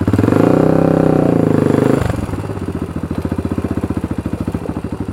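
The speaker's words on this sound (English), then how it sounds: "has a very annoying sounding rev limiter" Quad bike engine in reverse gear, an older 400, hitting its rev limiter: a loud, steady high rev for two seconds, then a rapid, stuttering on-off cutting pulse that repeats hard and close for the rest of the moment.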